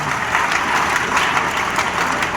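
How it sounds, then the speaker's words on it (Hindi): Crowd applause filling a hall during a spoken religious or devotional gathering, a steady dense wash of many hands clapping at once, fairly loud and continuous with no voices over it. "बहुत लोग साथ एक बार अच्छे से बजाओ तालियां।"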